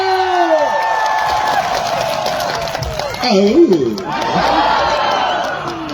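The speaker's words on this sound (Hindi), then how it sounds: "जोरदार तालियां हो जाए" A lively crowd at a Karbi Anglong Day stage celebration cheers, whoops and claps loudly, with voices shouting over the noisy, sustained roar of applause.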